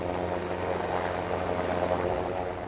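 Air force Super Puma rescue helicopter flying over Corsica, a loud steady rotor and turbine drone with a constant low throb that holds throughout, with no voices.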